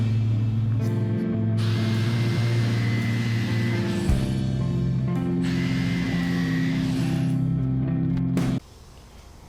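A power saw cuts a corner off a Douglas fir guitar body, giving a steady, loud motor drone with shifting pitch that runs almost unbroken and then cuts out abruptly near the end.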